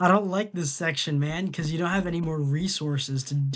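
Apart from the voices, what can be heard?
No everyday noises stand out.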